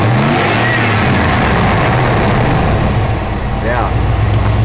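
A 1990 Ford Bronco with a 5.0 engine and AOD transmission idling after a cold start, with rod knock and a bad water pump, a loud continuous rough engine drone up close, with voices talking over it.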